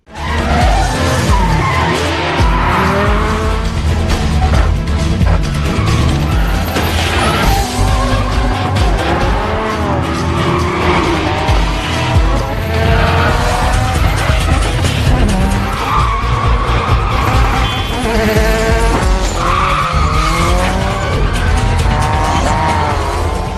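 A car chase from the film The Fast and the Furious: Tokyo Drift, with loud, continuous tire squeal and skidding over roaring race-car engines, unbroken throughout.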